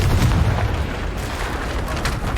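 Confringo fire spell explosion in the Hogwarts Legacy video game: a loud, dense booming blast with crackling debris and rumble that carries on steadily for a couple of seconds.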